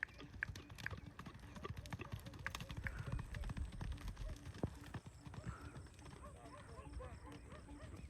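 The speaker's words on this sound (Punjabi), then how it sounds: "ਲਓ ਜੀ ਘੋੜਾ ਹੀ ਭੱਜ ਗਿਆ ਜੀ" A horse runs off with hooves clip-clopping in quick, irregular beats that fade toward the end. Voices talk over the hoofbeats.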